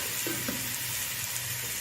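Marinated chicken sizzles and fries in a pot, giving a steady close hiss with faint stirring or handling noises and no talk.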